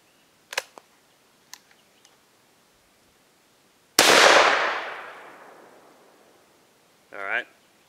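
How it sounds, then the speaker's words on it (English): A .410 shotgun fires a single slug at close range, one loud sharp blast with a long decaying tail, preceded by small clicks and handling noises and followed by a brief spoken remark. "There goes the slug."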